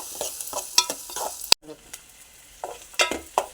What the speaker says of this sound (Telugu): ఇలా పచ్చనిపప్పు వేగుతుంది కదండి